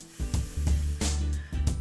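Short bursts from a spray can of glue accelerator, hissing several times in quick succession, close and fairly loud with pauses between sprays.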